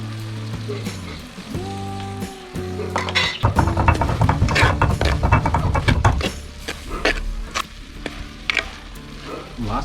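Turkey berries (sundakai) sauté in a pan, giving a bursty sizzle and crackle that swells in the middle of the clip after some tonal sounds at the start, then settles into a softer fizz.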